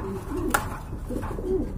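A red Lahori pigeon coos in a low, rolling call, with a couple of short coo phrases standing out close by against a faint background of other birds.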